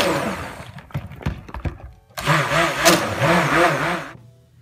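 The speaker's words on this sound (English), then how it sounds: "now that my oil is blended and mixed with the clay and activated charcoal" Several short bursts from a blender mixing coconut soap oils with clay and activated charcoal, followed by a longer, steady whirring run of the motor that stops abruptly.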